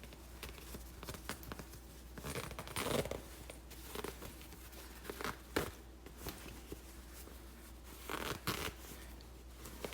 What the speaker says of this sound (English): And that is the sound of the waistband coming apart from the jeans.